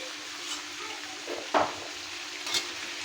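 Potatoes go into a pan of browned chicken for a Bengali chicken bhuna, with a soft steady sizzle of frying, a sharp scrape of stirring near the middle and a light utensil clink near the end.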